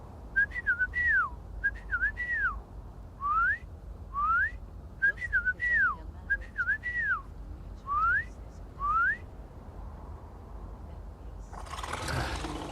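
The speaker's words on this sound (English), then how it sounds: "let's see if she still knows my whistle" A repeated two-note melodic whistle in Fallout 76 rings out clearly in short phrases about ten times over a quiet background, followed by a burst of rushing noise at the end.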